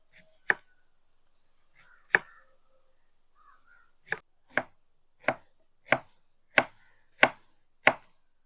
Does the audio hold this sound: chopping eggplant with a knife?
yes